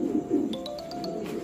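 Imported-line pigeons in a loft give low, soft coos up close, followed by a short run of quick, evenly spaced high chirps, with no one speaking.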